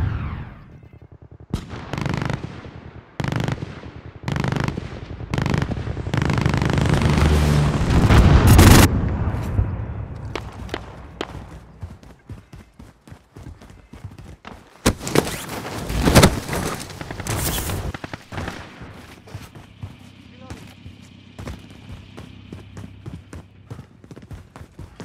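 Heavy gunfire and booming explosions in Call of Duty: Modern Warfare co-op, with repeated sharp shots and blasts, a dense roaring peak midway, and continued bursts of fire through the rest.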